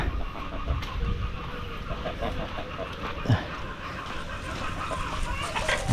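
Hens clucking on a farm, a steady chorus of nearby chickens with occasional louder calls and a dog-like bark mixed in, no talking.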